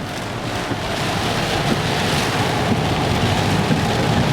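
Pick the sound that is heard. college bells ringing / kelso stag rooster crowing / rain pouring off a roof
rain pouring off a roof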